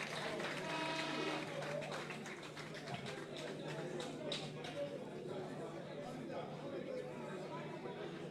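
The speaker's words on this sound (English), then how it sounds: "Another round of applause for this" Crowd applause with clapping and chatter at a political party press briefing on declared 2020 election results, a steady wash of hands and murmuring voices with talk over it.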